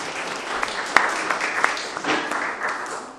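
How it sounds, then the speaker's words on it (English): An audience at a talk applauding, a steady patter of many hands clapping with a few sharper individual claps standing out. "you can clap for the movie"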